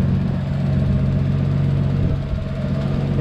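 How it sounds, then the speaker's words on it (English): Nissan RB25DET engine in an S14 drift car idling steadily with maxed-out stock injectors, a continuous low rumble with faint fine ticking riding on top, no talking. "Sorry for the ticking noise, it's my injectors. I've maxed out the stock injectors."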